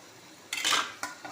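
A spoon scrapes and clinks against a pan as potato fry is stirred, followed by a brief metallic clatter like a lid being set on top, close and crisp.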